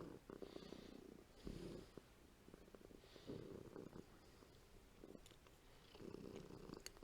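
A cat purrs in a rhythmic, rumbling cycle of about four breaths, each swell steady and close, with faint background noise between.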